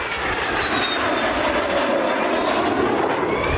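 A toy fighter jet plays a loud, steady jet-engine roar with a whining pitch sweep, close and continuous with no talk.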